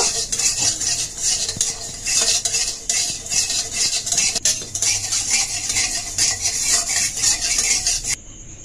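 Fennel seeds and radhuni spice dry-roasting in a pan for a fuchka masala, stirred with a steady scraping and rattling of seeds against metal, close and continuous with no talk.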